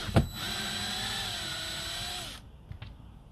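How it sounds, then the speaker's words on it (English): A cordless power drill whirs steadily for about two seconds in a Nissan 300ZX bulkhead area, close and moderately loud, then stops, followed by a couple of small knocks. "So I'll get my drill and I'll show you what it's like."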